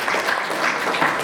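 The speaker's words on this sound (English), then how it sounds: "And then a round of applause for yourselves." A conference audience applauds itself, sustained close clapping forming an even, continuous patter for the whole stretch.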